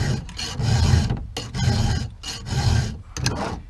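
A Stihl 050 chainsaw chain on a roller-nose bar being sharpened with a hand file: a few slow, heavy rasping strokes, each about half a second long, close and loud with short pauses between, and no talking.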